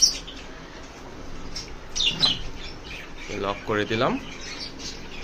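Cockatiels give a few sharp squawks and short chirps near their cage, mixed with a person talking over low room noise.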